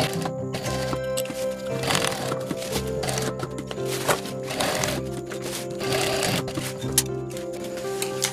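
Sewing machine stitching a strip of velcro onto a trekking bag, its dense continuous mechanical whirr and rattle steady throughout, close and fairly loud with no talk.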